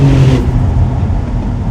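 A Porsche 992 Turbo accelerates hard on Mallorca's winding mountain roads, with wheel spin: a loud, close engine roar that surges in a brief burst and then settles into a steady, powerful drone.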